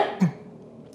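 A single short, dry cough, close and fairly soft, followed by quiet room tone.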